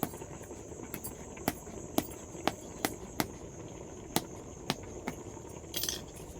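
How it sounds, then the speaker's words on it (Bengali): An eggplant being pierced before roasting: a series of sharp, isolated clicks and taps at irregular intervals, close and fairly quiet over a faint steady background hum, with no talking. "একটু বেগুনটা এইভাবে ছিদ্র করে নেব, তাহলে পুরানোটা ভালো হবে।"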